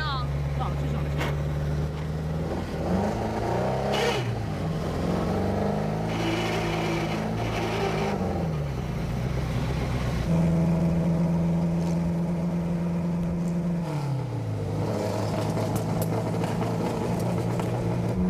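A race car engine heard from inside the car drones and revs loudly and steadily, pitch rising and falling with gear changes, close by and continuous throughout.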